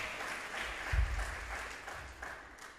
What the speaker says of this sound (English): Yeah, give that a round of applause too.